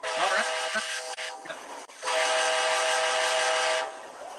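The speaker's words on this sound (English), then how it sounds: "You're going to hear the horn on this" A loud, sustained model train horn blast, an NS-9 and CN horn, cut briefly and then held again steadily for a couple of seconds, close and alone.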